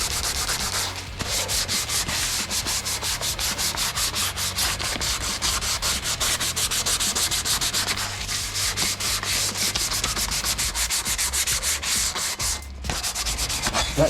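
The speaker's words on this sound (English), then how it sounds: "it tells you to give it a sand before you recoat it" A rack being sanded by hand before recoating, rhythmic back-and-forth rubbing strokes, close and fairly loud, continuing steadily with brief pauses and no speech.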